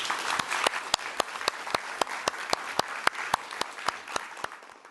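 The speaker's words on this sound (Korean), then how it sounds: "박수 한번 치면서 시작할까요?" Applause in a television news studio after a film wins four major awards, with a steady run of close, sharp claps standing out over a continuous wash of clapping for the full five seconds.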